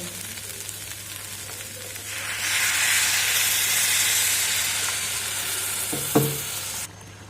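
Water poured into a pan of frying mung dal and flat beans sets off a loud rising sizzle and steamy hiss that holds for several seconds, with a clink near the end before it cuts off.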